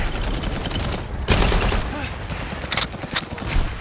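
WWII movie battle scene gunfire, a dense fusillade of sharp cracks and bursts at moderate volume, heard behind faint talk.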